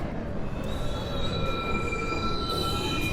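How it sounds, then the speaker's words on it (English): A New York City subway 1 train arrives at a station platform, its deep rolling rumble steady and close, with thin high wheel squeals sustained above the roar. "Local 1, train. Approaching the station,"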